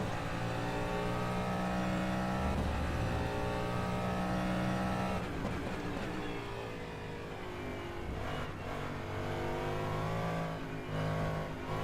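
A DPi prototype race car's engine in the rFactor 2 sim racing game at Spa-Francorchamps roars continuously, its pitch climbing through revs and dropping at upshifts, loud and close from the cockpit.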